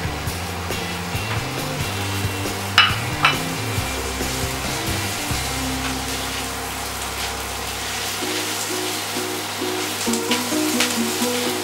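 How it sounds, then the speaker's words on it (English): Chopped onion frying in a hot pan, a steady close sizzle with light stirring clatter and faint background music throughout. "I'm going to add a chopped onion to the pan"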